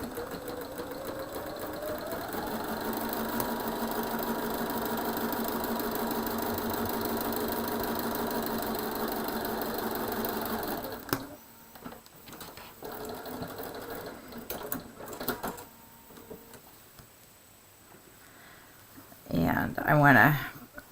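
Sewing machine running a 1/4 inch seam on hexie quilt pieces, a steady motor hum for about ten seconds before stopping, followed by quieter handling noises and a brief louder rustle near the end.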